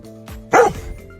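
A diabetic alert dog lets out a single sharp, loud bark close by, alerting its owner inside a car over a low steady hum.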